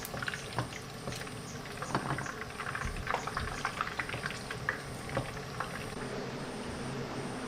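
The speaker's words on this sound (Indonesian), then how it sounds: "Oke, kita masak sayap ayamnya sampai matang ya." Chicken wings cook through in a non-stick pan, producing a continuous close bubbling sizzle with scattered pops and spits of oil. No one speaks.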